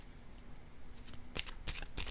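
A deck of tarot-style cards is cut and handled during a card reading, with several crisp papery riffles and slaps close by in the second half, preceded by quiet rustling.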